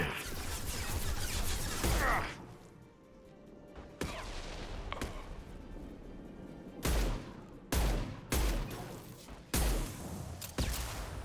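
Gunfire in the video game Mass Effect 2, a series of sharp loud bursts and volleys spaced irregularly over a rumbling battle background.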